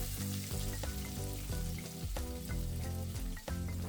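Garlic and chili frying in hot olive oil in a pan for a tomato-paste and gochujang pasta sauce, a steady close sizzle carrying on without a break, with faint stirring over it.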